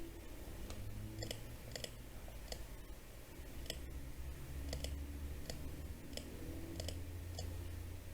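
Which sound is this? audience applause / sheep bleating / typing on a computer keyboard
typing on a computer keyboard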